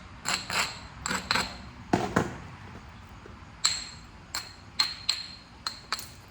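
Flint being knapped into an arrowhead: a series of sharp, glassy stone-on-stone clicks and taps in irregular bursts, some doubled, close and fairly loud with quiet gaps between strikes.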